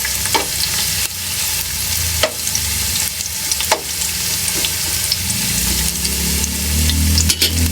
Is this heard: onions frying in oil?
yes